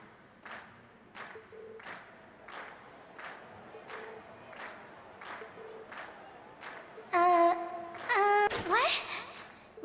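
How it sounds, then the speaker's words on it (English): Audience at a Class 7 school performance claps in a steady rhythm, then breaks into louder cheering with shrill whistles and whoops near the end. "we've heard your cheers loud and clear"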